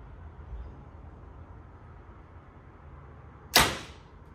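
A Mathews Lift 33 compound bow fires once, the string release a single sharp, loud snap after a quiet outdoor stretch, decaying quickly with no lingering vibration.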